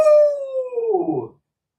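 A person imitates a dog's howl: one long, loud, close howl that slowly falls in pitch and breaks up before stopping.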